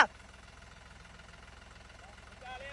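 A tractor engine idles quietly with an even, pulsing throb that swells slightly near the end.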